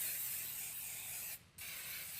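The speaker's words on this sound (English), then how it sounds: "I am gonna spray it" Cooking spray hisses onto a preheated waffle maker in one steady burst lasting about two seconds, with a brief gap near the end before the hiss resumes.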